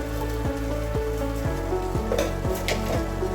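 Cabbage curry sizzles loudly in a pan while a spoon stirs it after sugar goes in, giving a steady frying hiss with regular scraping strokes about every half second.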